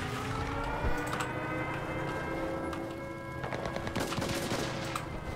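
Machine gun fire in the Enlisted video game's Normandy D-Day invasion battle, with bursts of automatic shots and scattered gunfire over a dense, continuous battlefield din.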